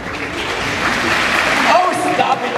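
Audience clapping at a convention fan panel, a loose, moderately loud patter of hands mixed with crowd murmur and voices talking over it, fading toward the end.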